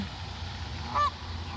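A single short honk sounds once, clear and fairly close, over a low steady outdoor background.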